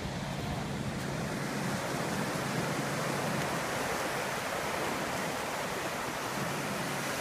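Continuous ocean surf at El Capitan State Beach, a loud, steady broadband wash of breaking waves with some wind rumble on the microphone, no voices.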